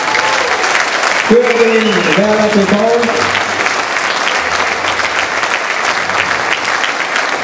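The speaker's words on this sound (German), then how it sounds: "Das habt ihr euch verdient, Applaus." Audience at the Kreis Soest 2018 sports gala applauds a team receiving its trophy, with dense, steady clapping throughout and a brief voice heard over it early on.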